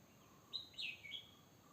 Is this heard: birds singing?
yes